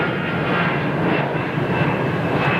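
A British Airways jet airliner climbs out low and heavy on departure from Heathrow, its engines a loud, steady, broadband roar that holds without a break throughout.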